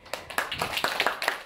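Brief, quiet, scattered handclaps from a small audience at a Vietnamese stage-skills class, a few people clapping unevenly for a couple of seconds.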